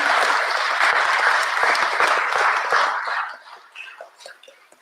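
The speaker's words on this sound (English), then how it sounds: "So one more round of applause," A courtroom or ceremony audience applauds a state Supreme Court justice, with loud sustained clapping that fades out after about three seconds, leaving scattered sparse claps.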